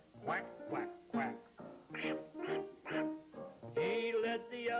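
A voice sings an imitation of a duck's quack, quack, quack in a children's song: a run of short rhythmic nasal quacks, clear and close, with no other sounds.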